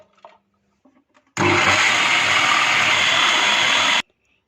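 A kitchen blender grinding leftover boiled rice, switching on abruptly with a loud, steady whirring roar for about three seconds and then stopping sharply, preceded by faint clinks.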